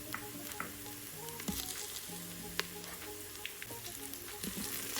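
Two tablespoons of unsalted butter sizzle steadily in a hot pan for lemon linguine, a continuous close frying hiss with faint stirring clicks throughout.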